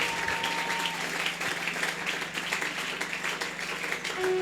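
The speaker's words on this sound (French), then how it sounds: "Est-ce que tu peux encore acclamer pour la gloire de Dieu?" A congregation at a church service applauds in a steady, dense wash of clapping that carries on throughout, loud and sustained, with a faint tone humming underneath.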